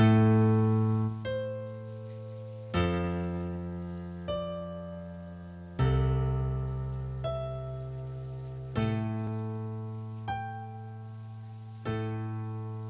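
Piano playing a repeated double A right-hand pattern with octaves, evenly spaced struck chords ringing and decaying between hits, steady and moderately loud with no voice.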